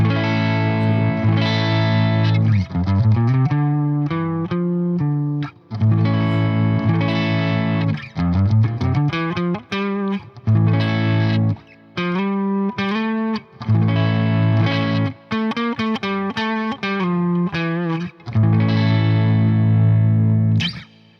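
Distorted electric guitar with a shimmering chorus effect plays sustained chords and quick melodic runs, loud and close, broken by short pauses, no talking.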